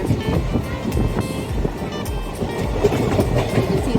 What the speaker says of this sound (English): The train has left.